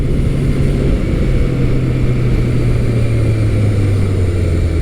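A Yamaha FZ1 second-generation sport-standard motorcycle ridden at a gentle pace, its engine droning steadily with a slowly falling pitch under heavy, continuous wind rush.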